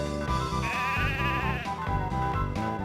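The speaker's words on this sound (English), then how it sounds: "The sheep are milling about restlessly." Sheep bleating in the video game Mother 3 at night, a wavering bleat over a steady musical background that fills the clip.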